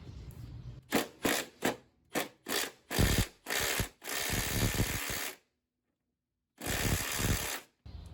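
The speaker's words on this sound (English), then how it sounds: "We are gonna take a 14 mil socket and rip these off." A Milwaukee 12V 1/4-inch Fuel impact driver with a 14 mm socket hammers at dry, unlubricated rear shock bolts. It gives several short rattling bursts, then longer sustained runs, a pause and one more burst, loud and close.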